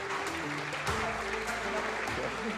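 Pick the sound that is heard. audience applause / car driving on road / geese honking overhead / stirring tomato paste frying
audience applause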